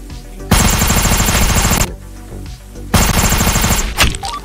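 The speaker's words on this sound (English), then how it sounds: "I'm just shooting anyone." Sustained rapid automatic gunfire in the shooter game Project Delta, loud and close, in two long bursts with a short pause between and a few scattered shots at the end.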